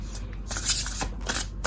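Tarot cards being shuffled by hand close up, crisp papery riffling bursts repeating irregularly, with no talk.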